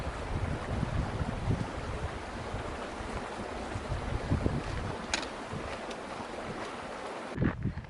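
Steady broadband rush of San Ysidro Creek flowing well along a forested Pacific Crest Trail section, continuous and fairly close, with gusty wind buffeting the microphone and a few brief sharper splashes or knocks near the end.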